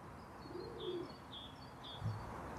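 Pigeons coo softly in a loft, with low murmuring calls and a few faint higher chirps over a steady hum of background noise.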